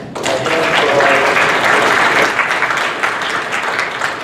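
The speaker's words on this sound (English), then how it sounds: "have to clap extra loud so that Mary can hear you at the airport" Conference audience applauding at a closing session, a dense, steady wash of many hands clapping that holds loud throughout and eases only slightly toward the end.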